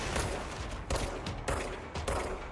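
Bursts of gunfire from the video game Control, several rapid volleys separated by brief pauses, loud and close with no voices over them.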